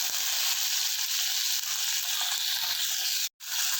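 Onion and tomato fry for a home-style mung bean stew, giving a steady, close hiss of sizzling oil throughout, with a brief dropout near the end.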